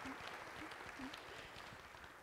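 Church congregation clapping during a Sunday service, a steady soft patter of many hands heard faint and distant, continuous for the whole short stretch with no talking.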